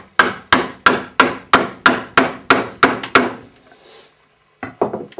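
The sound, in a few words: mortise chisel struck while cutting a mortise in wood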